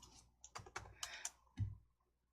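Typing on a computer keyboard, close and quiet, with a short burst of key clicks and then one heavier key press at the end, and no talking.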